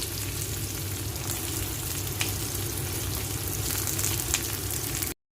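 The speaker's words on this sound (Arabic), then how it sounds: "اقلب السجق مع البصل يتشوحوا جامد زي ما احنا شايفين كده" Chopped sausage and onions fry together in a hot pan with a dense, continuous sizzle and crackle, fairly quiet and close, ending abruptly with no talking.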